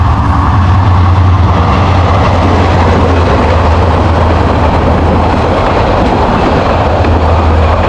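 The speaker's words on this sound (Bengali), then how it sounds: "হবিগঞ্জ রেল স্টেশন থেকে দেখতেছি ট্রেন যাচ্ছে" A train rolls past close by on the railway line near a station, a loud, continuous rumble and rattle of wheels and wagons that lasts throughout, with no talking.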